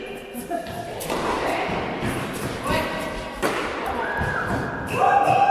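A table tennis rally with the ball knocking against a wooden blade and table in a match, giving hollow thuds and clacks amid shuffling and busy background noise, with voices talking over it.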